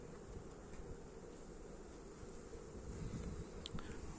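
Steady, dense buzzing of many Carniolan honeybees close by at an open hive, a continuous droning hum with some wind noise over the microphone.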